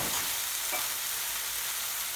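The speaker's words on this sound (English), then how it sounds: "Onion has softened. Tomato puree goes in." Tomato puree frying in a pan of softened onions for a hot chicken aloo madras curry, giving a steady close hiss and sizzle with a faint scrape early on.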